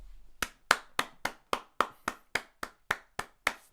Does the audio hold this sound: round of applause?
yes